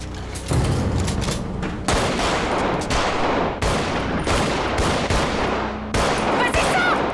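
Gunfire from a .45-calibre pistol in a dramatised police shootout, a rapid series of loud sharp shots with echoing cracks repeating in bursts.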